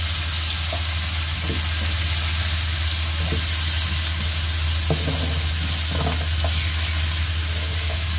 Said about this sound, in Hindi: अब हम इसमें शामिल करेंगे तीनों चीज़ें, कैप्सिकम, प्याज और टमाटर।